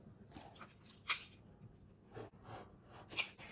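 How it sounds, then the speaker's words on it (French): A craft knife trims the corners of paper for a mini album, giving a few faint, short scratchy slicing strokes close by, separated by quiet pauses. "je vais venir tout simplement couper les angles au cutter"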